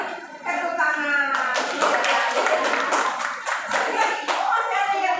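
Seventh-grade students in a classroom clap their hands in a quick group rhythm, sharp distinct claps in bursts, interleaved with children's voices chanting.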